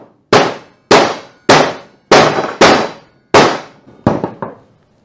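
A PVC board is struck or stressed in a glued joint strength test, giving six sharp, loud cracking clangs at roughly even intervals and then a brief cluster of smaller snaps.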